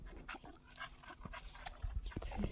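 A dog in a video game set in a snowstorm pants softly and lets out faint whimpers, a quiet, steady breathing texture with small whines over low game ambience.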